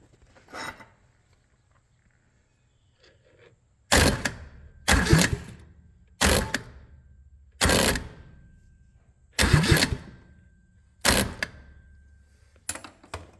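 Cub Cadet Lowboy 154 tractor engine cranking with the key in a series of separate loud bursts of about a second each, with short pauses between them and no catch, close and otherwise quiet.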